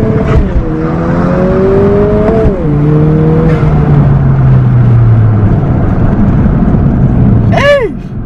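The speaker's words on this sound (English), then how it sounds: "I'm gonna do a quick first gear pull for you guys" A 2020 Honda Civic Si engine revs hard through a first-gear pull, its pitch climbing then dropping at a shift, loud and close for about eight seconds with a brief rising tone near the end.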